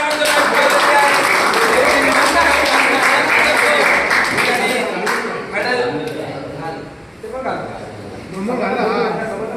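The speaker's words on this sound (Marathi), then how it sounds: "पियुष साठी जोरदार टाळ्या होते." An audience claps enthusiastically for Piyush, a loud sustained round of applause mixed with cheering voices that dips briefly near the end before swelling again.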